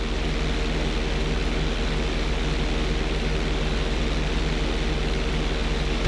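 A propeller airplane engine drones steadily as the plane climbs for altitude during a Grand Theft Auto V flight school lesson, a loud, continuous, unbroken hum with no voices.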